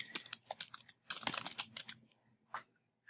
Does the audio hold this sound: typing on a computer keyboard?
yes